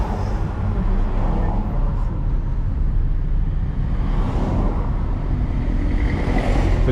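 Constant stream of vehicles along a roadway in Prairie, Jamaica, a dense, fairly loud traffic wash with passing swells, some voices faintly mixed in.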